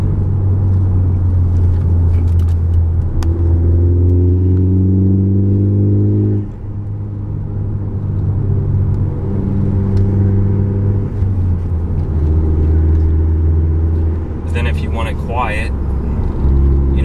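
A 2017 Ford Focus ST with a CNT Racing cat-back exhaust revs and drones loudly and steadily up close, its low rumble rising and falling in pitch through the run with a brief dip midway.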